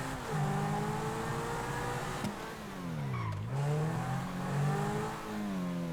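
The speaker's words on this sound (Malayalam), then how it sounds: "നമുക്ക് ലംബോർഗിനി ഒക്കെയാണ് കേട്ടോ നമ്മൾ ഓടിക്കാൻ പോകുന്നത്" A Lamborghini racing car in the game GTA 5 revs and accelerates, its engine pitch climbing and falling through gear changes, loud and continuous with no talking.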